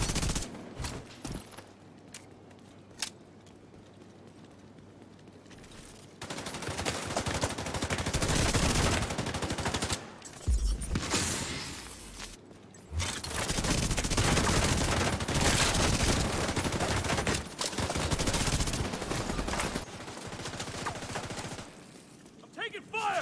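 Bursts of automatic and rapid gunfire from The Division 2 video game PvP combat, loud and sustained across several stretches with brief lulls, mixed with game voice callouts.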